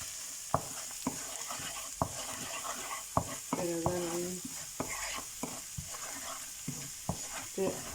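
Spice masala with garlic and green chillies sizzles steadily in a pan while a spoon scrapes and stirs it in regular, sharp strokes, close and clear.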